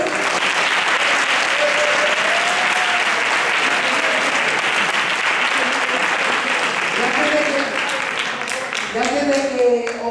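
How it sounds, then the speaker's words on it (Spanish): A large audience claps loudly and continuously for about ten seconds, a thick even wall of applause, with voices calling out over it toward the end. "Yo creo que se merece un fuerte aplauso"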